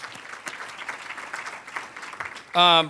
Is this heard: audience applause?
yes